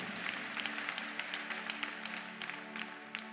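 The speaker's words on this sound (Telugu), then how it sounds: "చప్పట్లు కొట్టాలి గట్టిగా." Church congregation at a Sunday service clapping steadily for a few seconds, a dense field of many hands with scattered louder claps, moderately loud and continuous, a low steady hum beneath.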